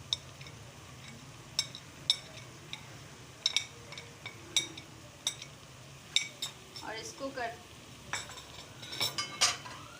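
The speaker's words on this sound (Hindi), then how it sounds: "इसको कर देंगे अच्छे से मिक्स और इसको तकरीबन 1 मिनट और पकाएंगे" A spoon stirs a vegetable mix with cumin and chaat masala in a pan for a vegetable kabab, making sharp intermittent clinks and scrapes over a faint sizzle.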